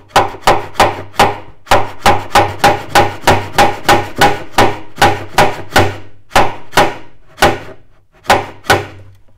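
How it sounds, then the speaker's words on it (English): A hammer taps a fret into the ebony fingerboard of a classical guitar: a steady run of about thirty sharp, close wooden knocks, fairly even in rhythm at first, then slowing and spacing out toward the end. "And then I just need to hammer it until very slowly, until the edge in the fret lines up with the edge in the ebony."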